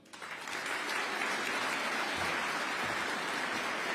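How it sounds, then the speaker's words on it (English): A large crowd at a Veterans Day event in New York City breaks into applause, the clapping rising quickly to a loud, dense, sustained roar that holds steady without voices. "Another round of applause, y'all, for General Brown, everyone."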